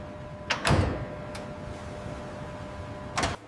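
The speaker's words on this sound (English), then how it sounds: "Truck doors close securely," Truck doors at a pigeon meat processing factory's loading dock close with a quick pair of close thuds and latch clicks, then a lone click and another bang later amid low background hum.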